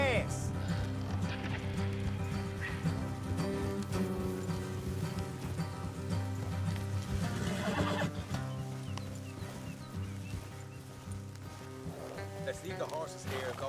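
Horses whinnying amid clip-clopping hooves in the video game Red Dead Redemption 2, with rain falling and dense game score layered throughout, while characters talk over the steady clatter.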